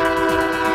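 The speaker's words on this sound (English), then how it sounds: "Don't get used to the horn honking though." A commuter rail train horn sounds at a grade crossing, one steady, loud chord-like blast held without a break, close by and alone.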